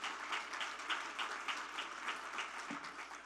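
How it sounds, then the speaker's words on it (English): Audience applause at a plenary conference session, steady clapping from a crowd with no voices over it, moderately loud and sustained throughout. "give yourself a round of applause for just being here"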